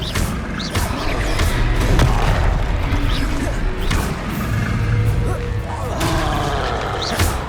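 Blasting-spell explosions in Hogwarts Legacy combat, loud booming bursts and crashes over a dense battle din, with a voice casting over the action.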